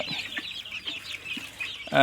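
Native chickens cluck on a poultry farm in Madurai where mother hens raise chicks. The hens give repeated close, low clucks in an uneven rhythm.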